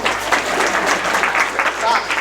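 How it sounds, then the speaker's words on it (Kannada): Audience applause at a spiritual discourse on Devi Mahatme, a steady broadband clapping that holds for a couple of seconds at moderate loudness, with some room noise beneath. "ಚಪ್ಪಾಳೆ ಬಾ"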